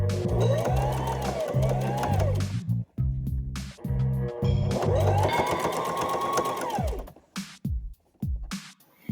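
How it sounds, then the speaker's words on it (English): A sewing machine stitches thick fabric for a handbag in two long, steady runs with a pause between and a few short bursts at the end, loud and close with a rising and falling motor whine. "It's a bit harder to sew because it's thicker."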